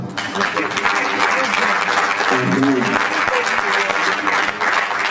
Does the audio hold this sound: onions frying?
no